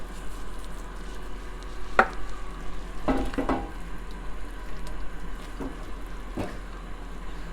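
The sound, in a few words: tomato sauce simmering and being stirred in a pan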